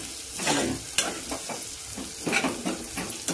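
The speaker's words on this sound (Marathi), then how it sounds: "कांदा चांगला भाजला झालाय" Two medium onions fry in a pan for a brown sprouted vaal usal, a steady close sizzle broken by repeated scraping stirs of a spatula against the pan.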